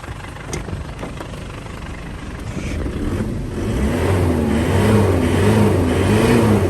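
Engine of a used car for sale running steadily and quietly, then revving up and holding a raised, droning pitch, fairly close with no talk.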